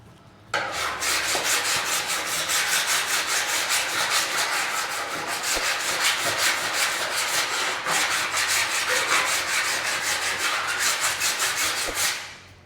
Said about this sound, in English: I'm just going to give it a quick file up.